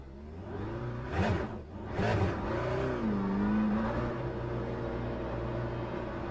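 Aston Martin race car engine in the Le Mans Ultimate racing game, a steady loud drone with rising and falling revs and two sharp surges early on, continuous throughout.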